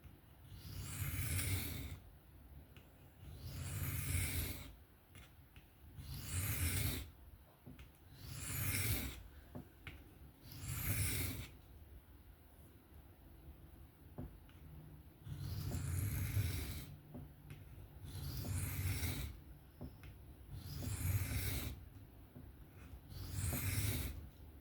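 Repeated close strokes of a knife blade drawn across a Tempest Knives MicroBurst sharpener at about a 15 to 16 degree angle, nine or ten rhythmic scraping passes with brief pauses between them and no talk.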